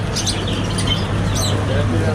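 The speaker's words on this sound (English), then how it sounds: "Lots of parrots up there." Bright parrot chirps and squawks rise over a steady indoor hum and background murmur, caged parrots calling in a busy pet shop in Santa Cruz de Tenerife.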